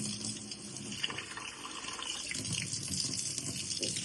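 Lime, vinegar and salt wash water is poured off raw oxtail into a kitchen sink, a steady, close splashing trickle with small drips that keeps going for several seconds, quiet and with no talking.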